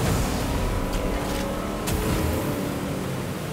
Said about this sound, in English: I can't hear you over the sound of this loud boat.